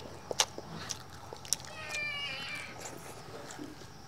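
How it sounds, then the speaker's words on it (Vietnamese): A cat gives a few short, faint meows while climbing onto a household altar, amid quiet indoor room noise with scattered small knocks. "Ôi con mèo trèo lên hẳn tận trên bàn thờ rồi."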